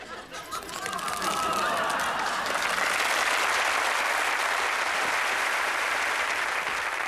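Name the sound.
audience applause for comedian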